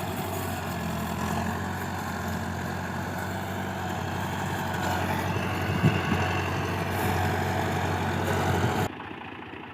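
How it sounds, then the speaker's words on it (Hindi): A tractor drives a threshing machine on a farm, its engine humming in a loud, steady low drone with a constant mechanical rumble until it cuts off abruptly near the end. "तो थ्रेशर वाला ट्रैक्टर ही आ गया जी"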